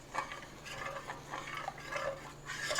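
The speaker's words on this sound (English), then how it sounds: "I need to stir it till all that is mixed up together." A Jell-O mixture for a blueberry salad is stirred in a pan, a faint, close scraping and swishing of a spoon in uneven strokes, quiet and without voices.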